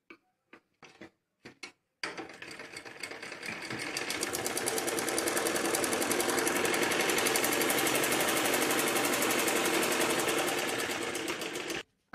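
A few sharp taps come first, then a sewing machine runs continuously for about ten seconds, stitching a strip onto a baby frock with a rapid, even mechanical chatter close by.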